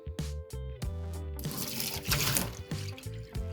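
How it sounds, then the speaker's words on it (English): Water poured out of a household water filter, splashing and gurgling in uneven bursts with short gaps between, close up and moderately loud, with no talking. "Pour out this water."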